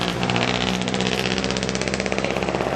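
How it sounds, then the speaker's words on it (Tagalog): A motor tricycle engine runs steadily at close range with a rough, pulsing putter, loud and continuous throughout without any talking. "Tricycle."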